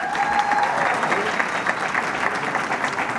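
Sustained audience applause with some cheering at a school awards ceremony honoring a Teacher of the Year, a dense steady wash of clapping that fills the whole moment.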